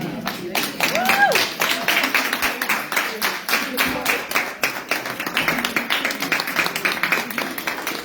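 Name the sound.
audience applause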